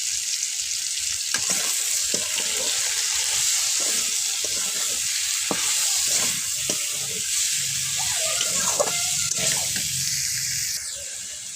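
Spices and bay leaves sizzle and fry in a pan for a vegetarian pumpkin and eggplant curry, with steady hissing broken by intermittent scraping stirs, close and continuous throughout.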